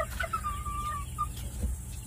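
A chicken gives a drawn-out, thin call followed by a short chirp, fairly close, over a low steady rumble of background noise and no speech.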